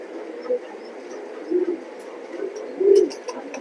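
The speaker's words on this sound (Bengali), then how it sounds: "এগুলো কিন্তু সব ভালো ভালো কবুতর যেগুলো কবুতর দিচ্ছি এই অফারে" Young racing pigeons at a loft cooing in low, soft bursts, several rounded coos rising over a steady murmur, with faint chirps near the end.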